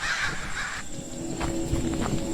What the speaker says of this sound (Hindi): उसके बाद वो सभी चील और कौवे बनकर फिजा में उड़ गए।